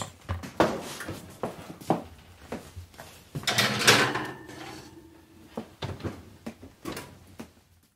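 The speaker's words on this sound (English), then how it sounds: "So I'm going to put this into the oven and I'll be right back." An oven door opens and closes as a cheesecake crust goes in to bake. A handful of close clunks and knocks come with a brief sliding rattle in the middle.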